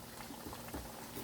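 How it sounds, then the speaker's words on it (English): Dumplings fry in hot oil with a steady, dense bubbling sizzle, close and fairly quiet, in a brief stretch with no speech. "the dumplings are frying there right now"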